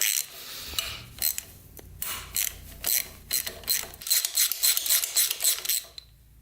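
A ratchet clicks in quick bursts while loosening a bolt on a barn-find Honda XR100 dirt bike, with short runs of close, crisp pawl clicking and brief pauses between strokes.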